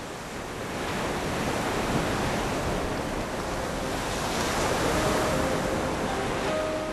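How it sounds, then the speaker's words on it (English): Steady surf of gentle sea waves on the Bay of Bengal shore, a continuous broad wash rolling without pause, with a little wind noise mixed in and no voices. "As the gentle waves of Bay of Bengal orchestrate a gentle tune of romanticism"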